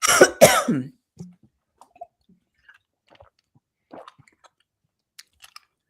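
Two sharp coughs with a throat-clearing rasp, close and loud, followed by near silence with faint mouth clicks and small rustles.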